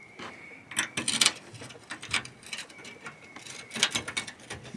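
A ratchet tightening a bolt on a 2000-2006 Nissan Sentra bumper. Its quick clicking comes in bursts, close and fairly quiet, with light metallic handling noise between them.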